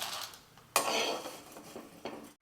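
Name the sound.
food being transferred into a bowl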